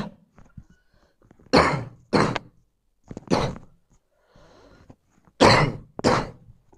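A run of sharp, forceful coughs, roughly six bursts in close pairs, loud and near, separated by short quiet gaps.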